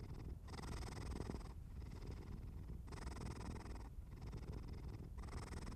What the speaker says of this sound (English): The purring begins again, low, steady,